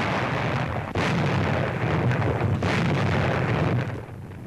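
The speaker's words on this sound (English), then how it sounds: "enemy bases were subjected to constant shelling by heavy artillery." Heavy artillery shelling of enemy bases in Indochina booms in a dense, rumbling barrage, with sharper blasts standing out near the start and middle, on an old, noisy recording.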